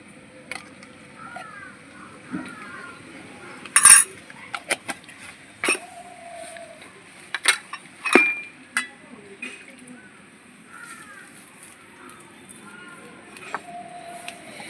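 A spoon scrapes and clinks against a bowl as oil and salt are rubbed into about 250 grams of flour with sugar for luchi dough, giving scattered sharp taps and soft scraping, close and mostly alone.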